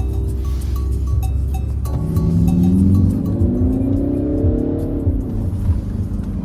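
A car accelerates hard and shifts up into third gear, the engine note climbing, dropping at the change, then rising again. Loud and steady throughout, with no talk over it.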